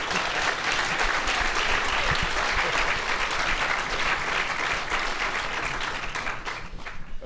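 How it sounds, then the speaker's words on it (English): Dense, steady audience applause fills an art school hall during an artist talk by Gilbert & George, many hands clapping at once near and loud, tapering slightly at the end. "Even the teachers are clapping."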